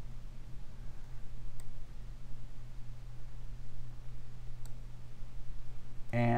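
A computer mouse button clicks a couple of times, faint sharp isolated ticks over a low steady hum of room noise, with a brief louder clatter right at the end.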